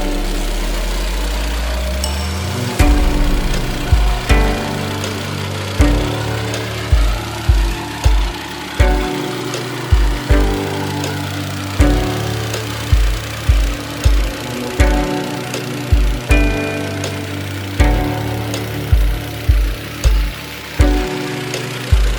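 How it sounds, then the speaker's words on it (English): A plate compactor runs over a gravel base laid for pavers, its engine droning loud and steady while heavy thumps pound out in an irregular rhythm, roughly once or twice a second, throughout. "we're going to run the packer on it a bit"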